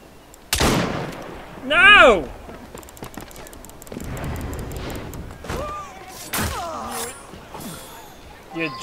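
Gunshots in Assassin's Creed: a couple of sharp, close shots a few seconds apart, mixed with game effects, other noises and a person talking.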